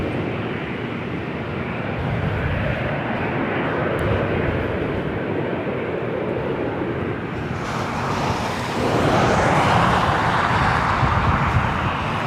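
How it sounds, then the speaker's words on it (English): A Southwest Airlines Boeing 737-700 takes off at LAX, its steady broadband engine roar filling the scene without a break and swelling louder toward the end, with road traffic blended faintly underneath. "This is Southwest Airlines 2979 taking off to Denver, Colorado on"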